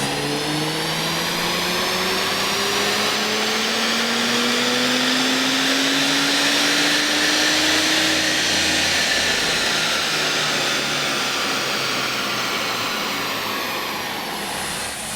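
A Japanese 3-litre twin-turbo six-cylinder engine pulls hard at wide open throttle in a car, a loud, steady, rising roar heard from inside the cabin as it builds through the gear, with no voices.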